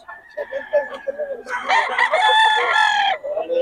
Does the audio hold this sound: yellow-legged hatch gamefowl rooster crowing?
yes